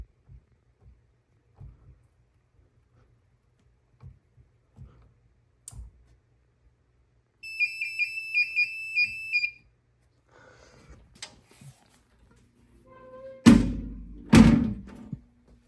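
A garage fire alarm system and a house fire alarm system sound together: a bright, pulsing electronic alarm tone beeps in rapid bursts for about two seconds, amid scattered clicks, then heavy thunks near the end.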